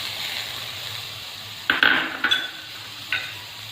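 Cabbage, carrot, capsicum and tomato get stirred in a pan for a veg momo filling: a quiet stretch, then a few sharp scrapes and clinks of a spoon against the pan, close by.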